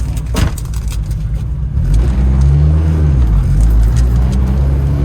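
An Acura Integra fitted with an LS-series transmission accelerates hard down a drag strip, its engine droning loud and close with a rising, sustained roar that climbs and shifts pitch as it pulls through the gear, alone without talk.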